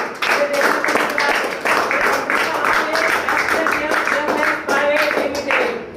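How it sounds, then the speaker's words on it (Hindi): A crowd claps in welcome for a company at an event in Ujjain, steady applause running throughout with a speaker's voice carrying over it. "जोरदार तालियों के साथ मैं इस कंपनी का भी स्वागत करता हूँ"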